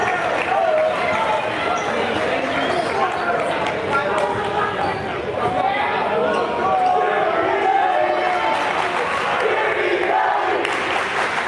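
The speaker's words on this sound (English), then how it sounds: "Jimmy getting more chants from the home crowd" Home crowd at a varsity boys basketball game between Port Jervis and Goshen, chanting and roaring steadily in a gym for a player, loud and continuous, with sneaker squeaks and ball bounces mixed in.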